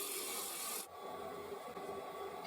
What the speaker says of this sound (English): I'm now just using the detailer to shape the mortise